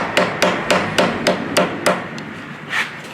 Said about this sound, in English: So I'm just going to keep hammering this until it looks like the moon